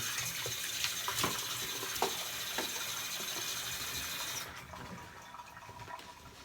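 Steady rushing of cold water from a tap runs close by with a few light clinks during wet shaving, then the flow stops and quieter room sound with small taps follows.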